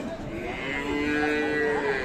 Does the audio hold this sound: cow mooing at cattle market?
yes